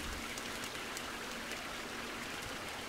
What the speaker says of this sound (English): Out there somewhere in all that rain